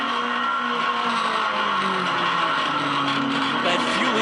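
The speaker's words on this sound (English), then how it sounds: "Here's Peter Edwards in the 430 Ferrari with Mark O'Connor right behind him in a little Lotus." Ferrari 430 and a small Lotus GT race car circling a street circuit at Adelaide's Clipsal 500, steady engine drone with shifting tones throughout, a commentator talking over it.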